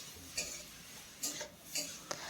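A utensil scrapes and knocks against a pan while cabbage curry with fried lentils is stirred and mixed, four distinct metallic clinks spaced about half a second to a second apart over quiet kitchen background.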